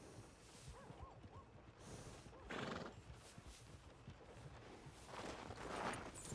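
Horse in a Red Dead Redemption 2 scene whinnies in short neighing bursts amid clip-clopping hooves and a few swishes, with quiet game talk beneath.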